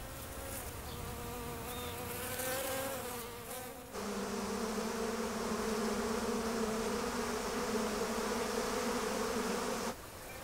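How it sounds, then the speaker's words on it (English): Feral honeybees of Italian stock on Kangaroo Island make a dense, continuous buzzing that swells noticeably louder partway through and holds steady, with no voices. "The honeybees were brought in hives from Italy in the 1890s, but many have escaped and have developed large feral colonies."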